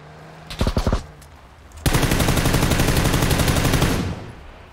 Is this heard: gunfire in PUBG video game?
yes